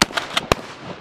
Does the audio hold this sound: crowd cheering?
no